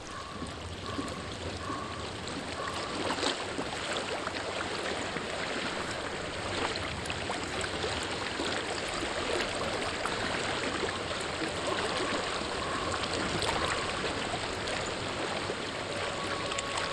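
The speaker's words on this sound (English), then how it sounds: "I hear water." A steady, continuous rush of flowing stream water fills the scene in Hellblade: Senua's Sacrifice, loud and close without letting up.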